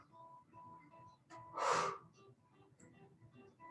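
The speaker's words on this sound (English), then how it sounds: "Open mouth exhales on the twists." A single breathy open-mouth exhale during yoga twists, fairly close and moderate in volume, rising briefly over a quiet background with faint tonal hum around it.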